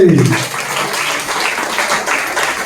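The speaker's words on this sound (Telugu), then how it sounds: "చప్పట్లు కొట్టి" A church worship congregation claps together in a steady, dense patter that holds for a couple of seconds, with a short voice-like note right at the start.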